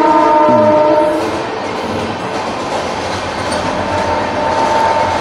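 A train rumbles past close by in a continuous loud roar of wheels on rails, preceded by a short horn-like tone at the start.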